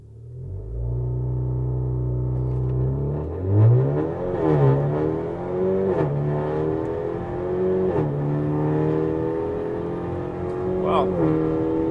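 A Honda Accord 2.0T Sport and a VW Jetta GLI DSG accelerate hard in a race, engine notes climbing steadily through gear shifts with rising pitch, heard from inside a car with voices talking over it.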